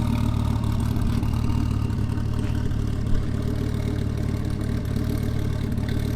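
A 2005 Dodge Viper Commemorative Edition engine with Belanger headers and full catless exhaust rumbles at low idle with a deep, steady exhaust drone and faint clatter, continuous throughout.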